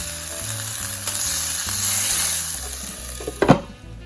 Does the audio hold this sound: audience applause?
no